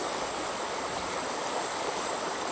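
A flowing stream of spring water at Reserva Biológica Duas Bocas, a steady broadband rush and hiss with no pauses, heard alone and fairly near.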